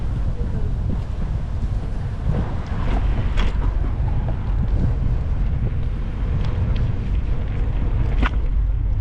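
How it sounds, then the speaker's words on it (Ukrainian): Gusty wind buffets the microphone outdoors in Poltava, Ukraine, with a constant low rumble and occasional harsher bursts, steady and loud throughout. "Одне, що напрягає вітер."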